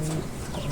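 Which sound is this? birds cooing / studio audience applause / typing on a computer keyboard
birds cooing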